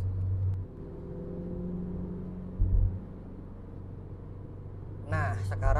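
A Wuling Confero car with 80,000 km, heard from inside the cabin while cruising on a toll road at around 70 km/h, gives a steady low road rumble and engine hum, with a voice speaking briefly near the end.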